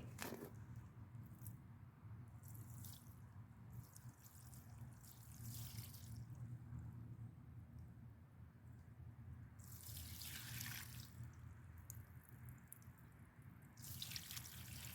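Water pours from a watering can onto a potted rosemary or poinsettia outdoors, soft splashing and trickling in several bursts over a low steady background, faint and close with no talk.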